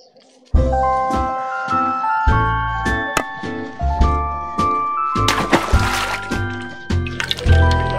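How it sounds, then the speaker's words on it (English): Water pours into a cooking pot for soup, a wet splashing and filling sound with drips that runs for several seconds under steady background music. "First, we'll pour water in the pot."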